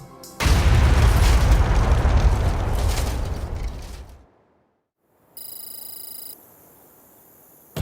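A bomb blasts with a loud, deep roar that holds for several seconds and then fades. Silence follows, then a steady electronic tone.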